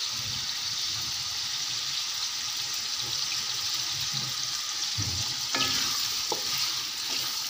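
Potatoes and green chillies frying in a pan over high flame, a steady dense sizzle with soft stirring thumps and a couple of louder scraping clatters near the end.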